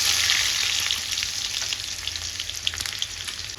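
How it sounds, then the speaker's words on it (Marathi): Cumin seeds and onion sizzle steadily in hot oil: a dense, even frying hiss with small crackling pops, close and continuous throughout. "सो तेल तापलेलं आहे. आता आपण त्याच्यात टाकूयात जिरे,"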